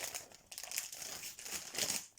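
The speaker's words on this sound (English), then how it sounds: "I haven't got any scissors to open it, so I have to open them with my teeth" A plastic bag holding an Airfix 1/72 model kit is torn open by teeth, giving close, continuous crinkling and rustling with a few sharper tearing bursts and no voices.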